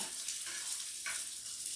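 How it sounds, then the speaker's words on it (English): Steady, bright sizzling of latkes frying in hot oil in a pan, close and continuous, with faint soft clinks and stirring. "They're sizzling beautifully."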